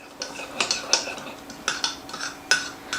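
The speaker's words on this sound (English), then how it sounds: "Stir that" A spoon clinks and scrapes against a bowl while stirring a mixture of sugar, yeast and milk, sounding as a string of sharp, close taps and rattles at an uneven pace.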